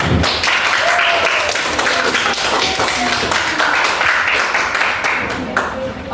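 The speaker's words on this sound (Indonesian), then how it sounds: "Ibu akan berikan aplaus untuk kita semua." A classroom of students breaks into sustained applause, dense and steady clapping filling the room for several seconds, with a few voices calling out over it.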